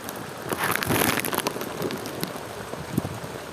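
Steady rain pours down outdoors in a village during a heavy downpour, a dense, continuous hiss of drops with occasional louder splashes and crackles close by.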